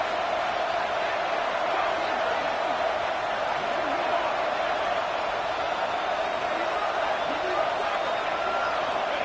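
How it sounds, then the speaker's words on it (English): Football stadium crowd in a video game, roaring steadily on third down to rally the defense, a dense continuous wall of cheering with a commentator talking over it. "Crowd getting this defense whipped up on 3rd down."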